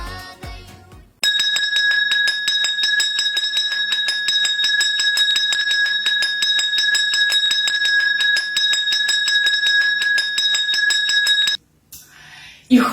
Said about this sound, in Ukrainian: І тому сьогодні лунає перший дзвоник.